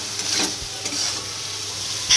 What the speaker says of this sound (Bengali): কষানোর মধ্যে সেদ্ধ মটরটা দিয়ে দিয়ে তারপর নেড়েচেড়ে নর্মালি রেডি